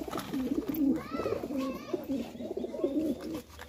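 Giribaz pigeons coo nearby in soft, rolling, repeated phrases over faint background noise, with a few light chirps mixed in and no one speaking.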